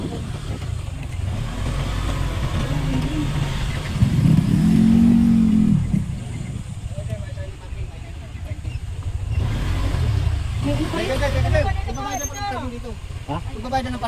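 A motorcycle engine revs up close in a surge around the middle, then idles and rumbles on amid other traffic noise at a parking area near a limestone cave campsite, with people talking in the background.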